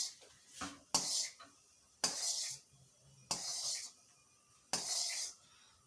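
A spoon stirs ghee being made from butter in a pot over low heat, giving five evenly spaced metallic scrapes and clinks, each lasting about half a second, soft and close with quiet gaps between them.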